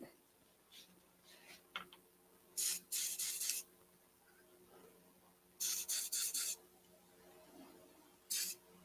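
Short hissing bursts of super glue activator sprayed onto a clamped pen blank in a workshop, three close, loud sprays of about a second each separated by quiet handling rustles.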